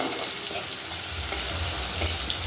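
Dried red chillies and onion fry in oil left over from frying eggs, giving a steady, close hiss and crackle that keeps going without talk.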